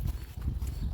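Horses' hooves clip-clop on the ground in a rural setting, a short rapid series of low, muffled thuds heard close by with no voices.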